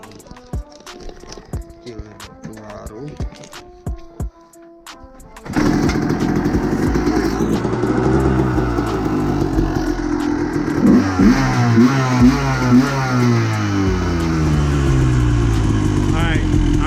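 A KDX250 two-stroke motorcycle is kicked over several times after a few quiet clicks, then fires up into a loud, raspy, buzzing idle that rises and falls with throttle blips, close by. Someone speaks briefly before it starts.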